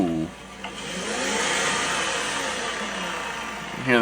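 A Toyota car engine spins with a broad whirring roar that swells and then slowly winds down, steady and close, with a brief voice at the start and end.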